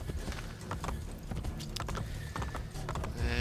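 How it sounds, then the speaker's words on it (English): A horse gallops in the Assassin's Creed Brotherhood video game, its hooves clip-clopping in a steady, fast rhythm at close range, with no talk over it. "I'm going to get off my horse."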